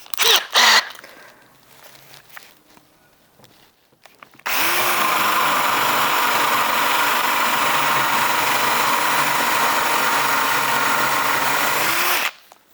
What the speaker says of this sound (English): I'll just show you how it goes with the bamboo drill now.